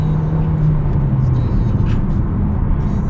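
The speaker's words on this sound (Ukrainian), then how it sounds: "Гудить сильно, звичайно, двохлітровий двигунчик без турби має напрягатися, щоб хоч кудись їхати." Inside a 2023 Hyundai Tucson with a 2.0 MPI non-turbo engine and 4WD, a steady low engine drone and road rumble fill the cabin while driving, continuous and fairly loud.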